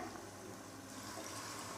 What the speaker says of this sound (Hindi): अब मैं इसके अंदर पानी डालूँगी